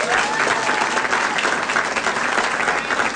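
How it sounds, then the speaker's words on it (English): An election-night audience applauds Senator Arlen Specter, a steady, dense burst of clapping from a crowd, sustained for a few seconds without talk. "I think we should give a round of applause to Senator Specter"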